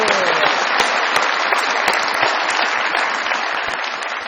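A studio audience at a Pakistani comedy show applauds in a dense, loud, steady burst of clapping that lasts throughout, with a voice faintly audible underneath.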